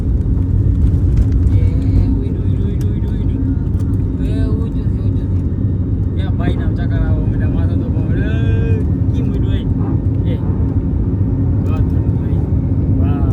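An airliner climbs after takeoff on a flight from Mumbai, heard from inside the cabin as a loud, steady engine roar while passengers chat over it.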